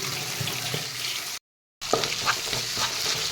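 Tomatoes sizzle steadily in a hot pan while they are stirred, close and fairly loud. The sound cuts out briefly in the middle, then resumes.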